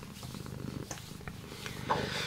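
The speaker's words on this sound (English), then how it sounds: "Here comes our TT cat." A cat purring close by, a steady low rumbling purr that runs for a couple of seconds with no talking over it.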